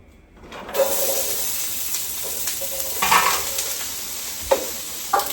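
Garlic and onion hit a hot pan for paella, bursting into a loud sizzle after a quiet opening, then frying steadily with a few sharp stirring knocks and scrapes over the hiss.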